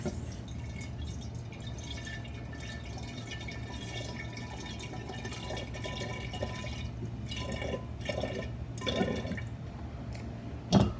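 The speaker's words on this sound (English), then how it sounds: "put it in this jar and that jar, going back and forth" Apple cider is poured back and forth between glass jars for homemade hard cider, giving a steady, continuous trickling and splashing of liquid close by, with a low constant hum underneath and a few louder drips near the end.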